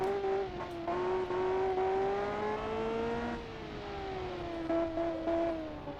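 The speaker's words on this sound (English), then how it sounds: "Sounds like a Gran Turismo car in general." Race car engine in a prototype sportscar racing video game, a steady high-pitched drone that rises slowly, drops after a gear change and climbs again, moderately loud and alone without voices.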